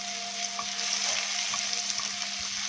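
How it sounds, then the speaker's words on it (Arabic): Garlic frying in hot oil left from cooking eggplant, potatoes and peppers for moussaka, giving a steady, dense sizzle with light crackles and occasional stirring scrapes, close and continuous with no talking. "مكان الزيت بقى اللي انا قلبت البتنجان وقلبت البطاطس والفلفل، هحط فيه شويه توم"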